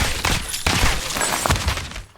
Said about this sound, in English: And I will kill him with the SMG.